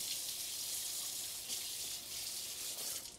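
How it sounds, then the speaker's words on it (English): Tap water runs steadily into a kitchen sink as a utensil is rinsed during meal prep, a constant close hiss and gush with no talking. "I'm gonna just rinse this off"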